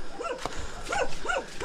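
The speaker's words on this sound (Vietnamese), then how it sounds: "Trên kia con chó" A dog barks a few times in quick succession at a moderate distance outdoors in a rural Vietnamese village, the barks carrying clearly with no talk over them.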